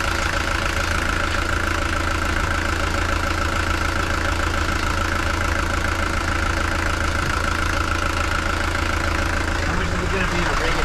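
Mercedes diesel engine idling steadily and refusing to shut off, a loud continuous clattering rumble with an even knock throughout, close by with no pause.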